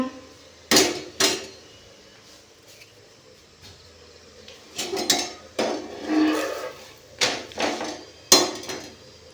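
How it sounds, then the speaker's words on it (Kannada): Plates and dishes clatter while being set out for serving food at home: a few sharp separate clinks early, then a busier run of knocks and scrapes, close and moderately loud with no talk. "ಪ್ಲೇಟ್ ಹಾಕಿ ಕೊಡ್ತೀನಿ ತಾನೆ."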